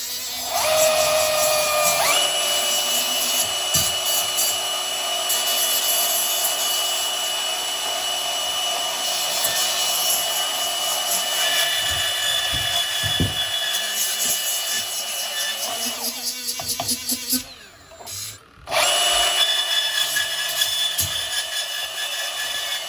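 Steel tubing for a driveway gate being cut with a power tool, a loud continuous high-pitched whine running steadily for most of the span, briefly dropping out near the end before resuming.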